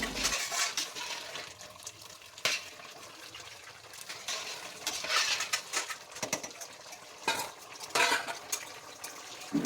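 Pumpkin halwa stirred in a pan alongside dry fruits frying, with faint intermittent scraping and clinking of a spoon against metal over a soft background, close and fairly quiet.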